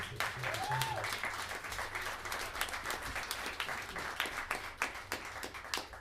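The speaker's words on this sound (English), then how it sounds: "Please, a nice round of applause for everyone." A comedy hypnosis show audience gives a round of applause: faint, scattered clapping rolls on for several seconds at a distance, uneven and fluttering.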